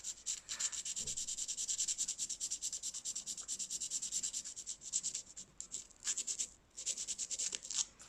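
Steady hand sanding of Milliput filler on a ceramic piece: a continuous rhythmic rasping rub, close and fairly quiet, with brief pauses and no talking.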